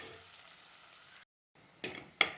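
Ginger, green chili, curry leaves, garlic and shallots frying in a pan, a steady soft sizzle that cuts out briefly, then returns with a couple of sharp stirring scrapes and crackles.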